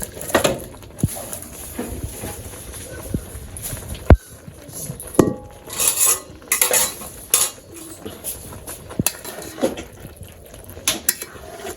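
A spoon scrapes and clatters against a pot as meat is stirred into pulao for village-style chicken biryani, with close, irregular knocks and a soft sizzle underneath.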